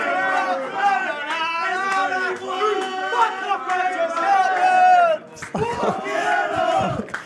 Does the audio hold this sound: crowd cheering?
yes